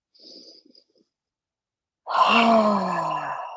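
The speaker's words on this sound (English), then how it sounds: "Let's take a deep breath in. Exhale through the mouth." During a vinyasa yoga class, a long, deep breath is pushed out through the mouth as a loud, voiced sigh lasting over a second, after a faint, soft breath near the start.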